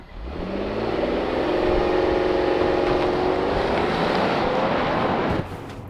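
A 3.5-liter V6 in a 2022 Lexus LX600 Ultra Luxury SUV accelerates hard from a launch-control start, its engine note rising steadily in pitch under broadband road and wind noise, loud and continuous before easing off near the end.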